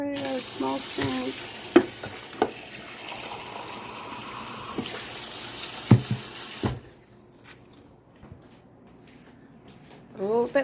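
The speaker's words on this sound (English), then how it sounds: "Put a little bit more water in there." Water splashes into a pot of meatball stew over steady sizzling and clinking from the cooking, broken by a few sharp knocks, then quieter kitchen sounds near the end.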